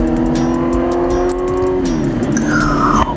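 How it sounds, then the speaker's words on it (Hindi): A superbike engine with a loud exhaust revs loudly and continuously up close on an open road, its pitch holding and then shifting as it accelerates, with wind rush and no speech. "सुनिए आवाज़ बाइक की।"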